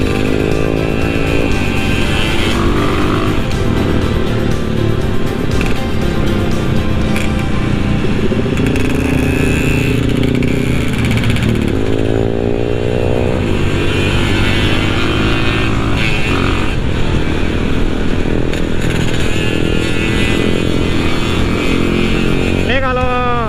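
Honda GL100 motorcycle ridden on the Pantura road during the Lebaran homecoming, its engine droning loudly and rising in pitch as the throttle opens, with steady wind rush and someone talking over it.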